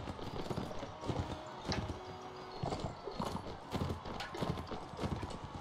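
Horses gallop in a Mount & Blade Warband tournament, a steady quick drumming of hooves with a brief whinny, heard fairly faintly.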